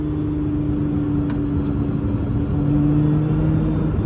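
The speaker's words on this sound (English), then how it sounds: "You've got to manually rev match this car." Lotus Emira engine humming steadily at low revs on a race track during paced laps in track mode, a continuous close rumble with a slight rise in pitch near the end.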